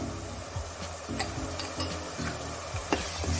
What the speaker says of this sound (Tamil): மஞ்சள் தூள் ஆட் பண்ணி நல்லா அதுவும் வந்து பச்சை வாசனை போகிற அளவுக்கு வதக்கி விட்டுக்குங்க